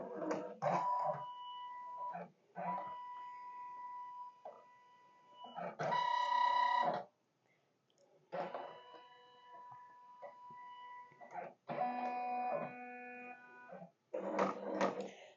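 An embroidery machine scans its hoop area while preparing to stitch felt, producing stop-and-start mechanical whirring and humming bursts with steady tones, separated by short pauses.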